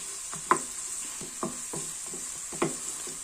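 Asafoetida being stirred and sautéed in a pan for Kerala-style tomato rasam, giving a soft steady sizzle with a few sharper scraping stir strokes, fairly quiet and close with no talking.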